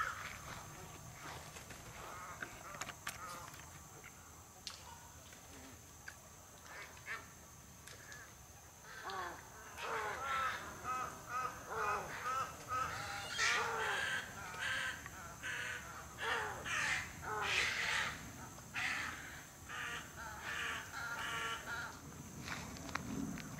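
Thousands of roosting birds in the Everglades after rain, a dense chorus of caws and honking calls that swells and grows louder midway, with scattered sharp calls nearby and occasional faint talk.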